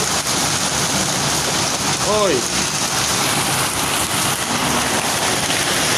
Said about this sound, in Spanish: granizo que está cayendo aquí